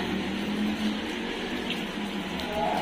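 Hot water being poured into a pot of chicken while cooking Hyderabadi dum biryani, a steady splashing, filling pour running continuously at close range.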